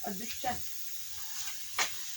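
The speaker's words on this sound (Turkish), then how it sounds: "biber kızartıyorum" Peppers fry in a pan with a faint, steady sizzling hiss, a few brief louder crackles breaking through, and a voice speaking quietly over it.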